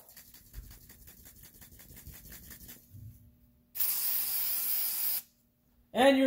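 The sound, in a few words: spraying white lithium grease from an aerosol can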